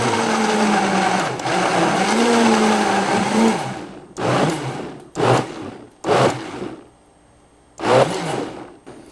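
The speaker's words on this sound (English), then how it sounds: "So make sure your blender is on low." A blender pulses soup on low speed: first a few seconds of continuous whirring, then four short separate bursts of motor noise with quiet gaps between them, close and without voices.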